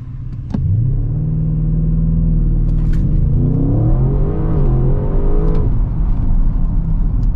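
Close, loud engine note of a 2020 Audi RS6 Avant during a launch, revving up through rising harmonics with a gear change midway, a steady powerful roar lasting several seconds with no talk.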